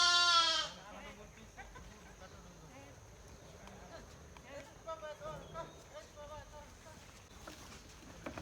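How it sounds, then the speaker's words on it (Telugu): Lambs and sheep bleat at a herders' camp with camels nearby, a loud close bleat opening, then softer scattered bleats and animal calls over background chatter and camp noise. "గొర్రె పిల్లల్ని చూడండి అక్కడ పడుకోబెట్టారు"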